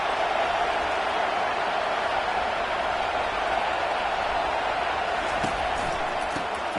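A football stadium crowd roars and cheers in a steady, continuous wash of noise that fills the whole stretch without a break, with a commentator's voice faint underneath.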